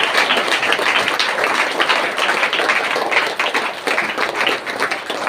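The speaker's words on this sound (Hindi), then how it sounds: "जोरदार ताली से प्रभु को धन्यवाद करें।" A church congregation claps loudly in thanks to God, with a dense, continuous wash of many hands beating together in steady sustained applause.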